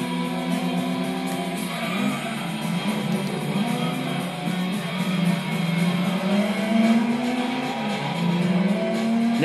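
Several race cars roar and whine continuously through a race in Gran Turismo 2, a Tuned NA Car Cup event, with engine pitch rising and falling through gear changes and no talk over it.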